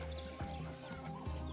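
A hen clucks softly in a few short, repeated calls, faint and fairly close, with no talking.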